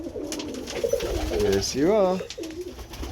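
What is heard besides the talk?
pigeon cooing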